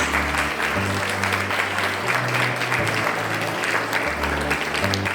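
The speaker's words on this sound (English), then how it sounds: "Please give them a big round of applause." Dense, steady applause from an audience at an International Workers' Day celebration at a school, sustained at an even loudness throughout with a low musical hum underneath.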